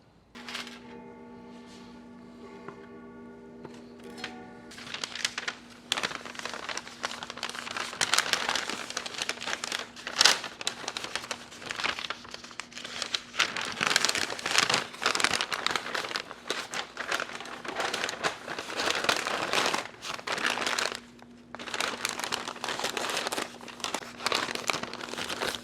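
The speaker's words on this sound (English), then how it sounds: "wrap it in some butcher paper just to hold it overnight" A smoked pork butt is wrapped in butcher paper with steady, close crinkling and rustling that lasts throughout, while a faint low hum runs beneath.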